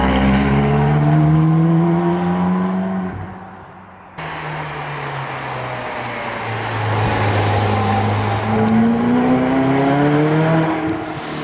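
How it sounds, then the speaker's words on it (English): A Ferrari California's exhaust rises through repeated acceleration runs, loud and close, with rising harmonic sweeps, a short lift near four seconds, then building again with no talk over it. "the exhaust does sound really good."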